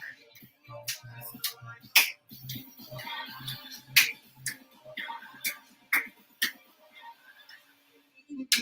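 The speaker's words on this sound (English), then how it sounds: "And clap forward and back" Sharp hand claps during an arm warm-up in a strength and cardio exercise session, landing at a steady rhythm about once a second, crisp and close, with a faint background beat underneath.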